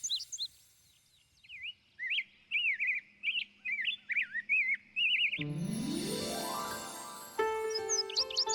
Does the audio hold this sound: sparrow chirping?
yes